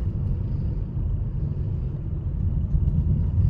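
Tricycles rolling slowly along a road on a hot, sunny day, a steady low engine rumble close by that builds slightly toward the end, no talking.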